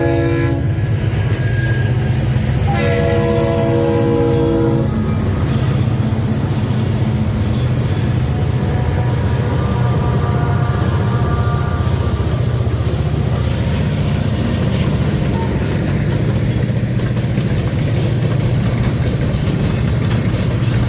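A Maryland Midland Railway freight train led by classic EMD diesel locomotives rumbles steadily past at a curve near Fort Ritchie Road, its horn blaring in long blasts early on, with wheel squeal and rail clatter throughout.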